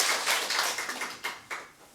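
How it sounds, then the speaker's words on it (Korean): Church congregation clapping at a Sunday service, scattered individual claps building and fading in the room, moderately close with no voices. "좋은 박수를 아끼지 말고 이때라도 크게 박수를."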